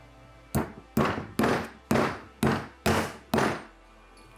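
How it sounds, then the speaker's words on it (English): Seven crisp hammer blows drive a fischer FNA II nail anchor into a fixing, evenly spaced and close, each a sharp knock with a short decay in an otherwise quiet room. "fixing is set by simply hammering it in"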